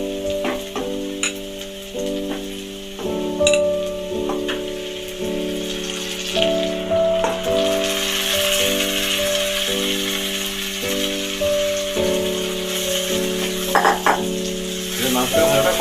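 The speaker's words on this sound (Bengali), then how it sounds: "এবারে আমি মাংসটা দিয়ে দেবো।" Mutton pieces sizzle and fry in a pan with a little sugar, a steady crackling hiss with occasional stirring rattles, heard close up beneath a faint continuous background tone.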